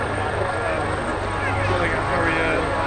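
Helicopter at the RIAT 2023 airshow, a steady loud rotor and engine roar filling the whole clip, close and continuous, with a commentator talking over it.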